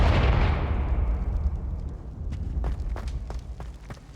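The Confringo explosive spell fires in Hogwarts Legacy, a single loud booming blast that rolls off into a fading rumble, followed by faint scattered crackles and footstep-like clicks.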